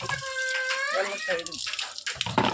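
Water is poured out under pressure in a steady rushing stream that runs the length of the clip, with high, chirpy vocal sounds over it.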